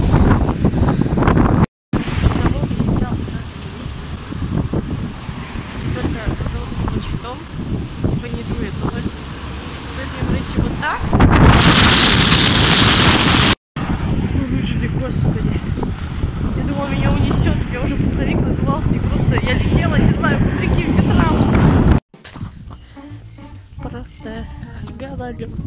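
Strong gusting wind outdoors on an icy winter day near the Volga, roaring and buffeting the microphone loudly and almost continuously, with a few abrupt cuts and a quieter stretch near the end.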